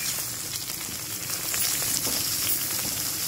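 White brinjal curry with coriander chilli masala sizzles and bubbles in a pan while being stirred, a continuous close crackling fry with faint scraping.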